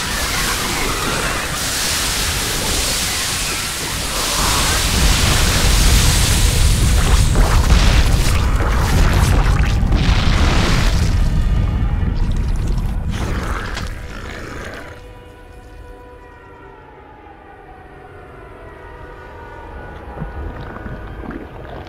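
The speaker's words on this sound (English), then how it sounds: "A lava surge is coming." A lava surge rolls through the StarCraft 2 co-op mission Vermillion Problem as a loud, close, deep booming roar that swells and holds for about ten seconds, then fades into quieter rumbling with faint tonal game sounds and no talk.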